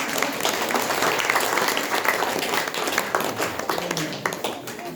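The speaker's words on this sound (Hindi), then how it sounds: "ताली बजाना एक्सरसाइज है," A group clapping hands together as an exercise, a dense, continuous patter of many claps at a steady pace, fairly close and loud throughout.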